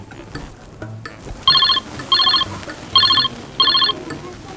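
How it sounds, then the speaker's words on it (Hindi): An electronic phone ringback tone sounds four times in steady, evenly spaced bursts over a quiet, murmuring background. "रुको मैं फोन लगा रहा हूँ रंजीत को।"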